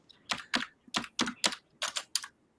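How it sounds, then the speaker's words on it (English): Rapid bursts of computer keyboard typing, clustered keystroke clicks in an uneven rhythm, fairly close and clear with no talk over them. "I hear somebody typing away"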